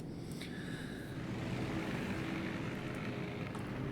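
Propeller-driven AP bombers drone overhead in World of Warships, a steady engine hum with a low rumble beneath, fairly faint and continuous without a break.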